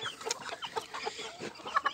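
Hens cluck and chatter in a busy overlapping flock, close by and fairly loud, with no voices.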